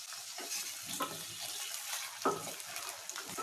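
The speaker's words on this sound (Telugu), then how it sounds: "మెత్తబడేదాకా వేపించుకోవాలి." Tomatoes and curry leaves fry and sizzle in a pan for a mutton curry, with a soft, continuous hiss and a couple of brief stirring scrapes, fairly quiet and close.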